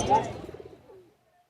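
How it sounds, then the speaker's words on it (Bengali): A pigeon coos at a bustling pigeon market in Khulna, Bangladesh, a rolling throaty call up close that fades out over about a second, with nearby voices. "কৌতরে ডাকতেছে"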